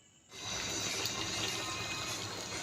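Water gushes in a steady, close stream into a pan of spiced cauliflower and potato curry, starting abruptly after a brief silence and continuing evenly to the end.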